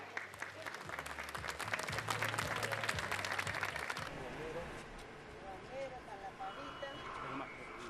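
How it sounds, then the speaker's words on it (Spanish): Applause from a crowd at the inauguration of a school in Peru, presided over by the president, with dense, sustained clapping that fills the first half and then thins into scattered claps and murmuring. "Aplausos, por favor."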